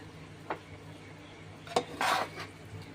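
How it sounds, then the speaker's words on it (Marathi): A spoon knocks and scrapes against a small cooking pot while noodles are stirred, with a few sharp separate clinks followed by a brief scraping rub, all close by. "त्याच्यामुळे आपण ढवळून घ्यायचं चांगलं"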